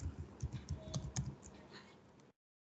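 Someone types an SQL insert query on a computer keyboard, a quick run of close, crisp keystrokes for about two seconds before stopping abruptly into silence.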